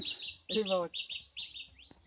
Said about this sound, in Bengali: পাখির ডাক কতটাই না ভালো লাগছে